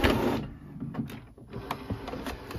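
An Epson ET8550 inkjet printer works nearby, its motors whirring and clicking in short bursts with brief mechanical pauses, fairly quiet and without talk.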